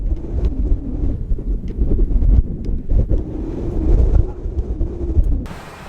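Strong wind buffets the microphone in loud, continuous low rumbling gusts, with no voices, ending in a brief hiss.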